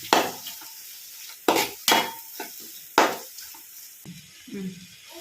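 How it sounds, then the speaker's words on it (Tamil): Curd is stirred into biryani masala in a pot for chicken biryani, a spoon scraping and knocking against the metal in a few distinct bursts over a faint sizzle. "இதில் தயிர் விட்டு நல்லா மிக்ஸ் பண்ணணும்"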